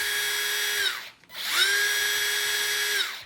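A DCA cordless drill driver spins up twice with a slight slow start, its whine ramping up and steadying, then dropping off briefly between the two close, fairly loud runs.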